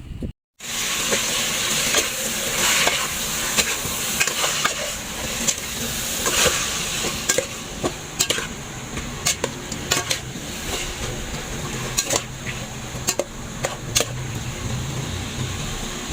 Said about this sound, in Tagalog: Kapag mabango na yung amoy, ilalagay na natin yung chicken at isasangkot siya lang natin ito.